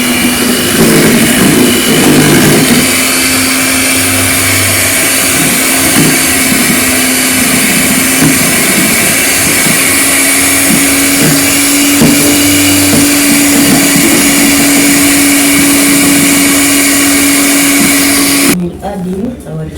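Electric mixer whirring steadily through dragon fruit cake batter, a loud continuous motor hum with a constant pitch that holds for most of the clip before cutting off near the end.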